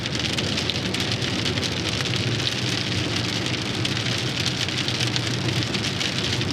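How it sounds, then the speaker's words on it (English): Steady, dense storm rain in Arkansas pours down continuously, a loud broadband hiss of drops on a surface with a low rumble underneath, no voices. "I'm kind of going through a little bit of the rain right now"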